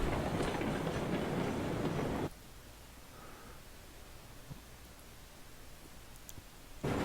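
Train rolling along in the railroad video game Railroads Online, a loud broadband rumble that cuts off abruptly to a quiet hiss, then returns at the very end.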